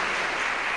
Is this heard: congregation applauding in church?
yes